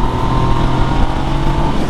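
A Yamaha MT-09 motorcycle accelerates hard in fifth gear, a loud, steady engine roar with strong wind rush heard from the rider's position, no talking.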